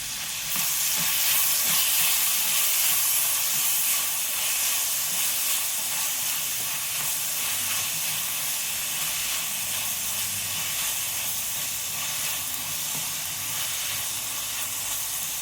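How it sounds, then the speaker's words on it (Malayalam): Shallots, garlic and green chillies sautéing in a pan give a loud, continuous sizzling hiss that stays steady throughout, close up and with no voices. "ഒരു അഞ്ച് പത്ത് ഉള്ളിയും ഒരു അഞ്ച് പത്ത് വെളുത്തുള്ളി അല്ലി ഒരു നാല് പച്ചമുളക് വഴറ്റിയെടുക്കാം"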